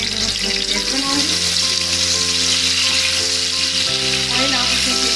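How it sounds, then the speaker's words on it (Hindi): Onions fry in oil for chicken sausage pulao, making a loud, continuous close sizzle with a steady hiss and a faint underlying hum. "प्याज हमारे ब्राउन हो रहे हैं, उनको बहुत ज़्यादा काला नहीं करेंगे, बस हल्का सा गोल्डन ब्राउन करेंगे।"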